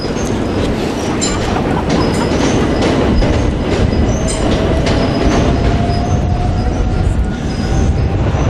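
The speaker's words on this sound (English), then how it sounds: "The sound you can hear behind me is a train coming into Charing Cross" A main-line train rolls into Charing Cross Station over the bridge, heard loud and steady from the pedestrian walkway with continuous rumbling, clattering wheels and a thin drawn-out squeal of wheels on rail.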